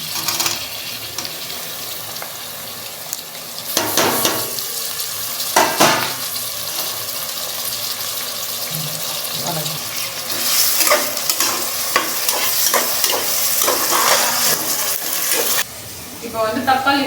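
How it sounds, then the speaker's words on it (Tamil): Onions frying in a pan give a steady close sizzle, punctuated by bursts of stirring and scraping. "ஆனியன்ஸ் ஃப்ரை ஆயிட்டு இருக்கு."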